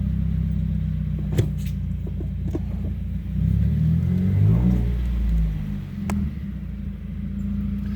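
A Subaru WRX engine idles after the car comes to a stop, a steady low rumble that sags and wavers midway as the revs drop badly, then settles, close and with no talk.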